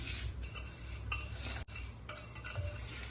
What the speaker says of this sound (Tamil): இந்த பட்டரையும் சாக்லேட்டையும் இது கூட சேர்த்து சீனி நல்லா கரையிறது வரைக்கும் நம்ம இதை மிக்ஸ் பண்ணிக்கலாம்